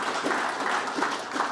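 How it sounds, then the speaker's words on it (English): An audience applauds at the start of a speech at an election hustings, a steady wash of many hands clapping at moderate distance, without talk. "Wasn't expecting that clap right at the start before you heard what I got to say."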